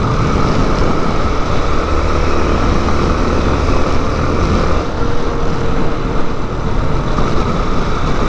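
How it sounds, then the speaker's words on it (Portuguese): A helicopter flies over an open-air street market, giving a loud, steady, continuous rotor-and-engine roar that fills the whole stretch with no clear rise or fade and no voices. "Helicóptero aí, Jacques."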